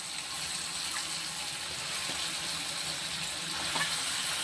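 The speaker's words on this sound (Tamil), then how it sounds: "இப்போ வந்து நம்ம உரித்து வச்சுருக்கிற நம்ம இந்த இறால் போடுவோம்" Peeled prawns go into a pan of sautéed tomato and onion for a Tamil prawn curry, giving a steady, even sizzle and hiss that holds throughout with no one talking.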